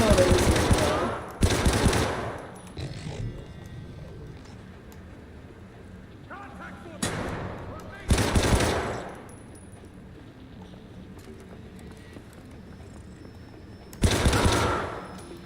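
Gunfire on city streets in the video game Syndicate: loud bursts of automatic fire at roughly two-, six-, eight- and fourteen-second marks, each a sharp rattling volley separated by quieter ambience.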